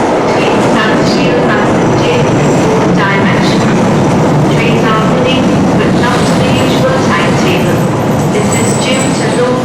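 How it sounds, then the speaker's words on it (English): Tyne and Wear Metro train at Manors station, a loud continuous rumble and clatter of wheels on track as the train runs through close by. "we'll just wait for this train to Monument"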